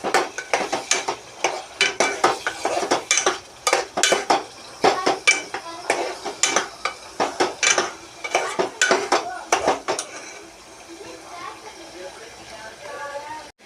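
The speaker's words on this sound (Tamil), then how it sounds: "கூடவே தக்காளி எல்லாம் போட்டு கொஞ்சம் வணங்கட்டும்" A spoon clanks and scrapes rhythmically against a pan while ginger garlic paste, masala and tomatoes fry in oil for biryani. The repeated metallic knocks are close, and the stirring eases off near the end.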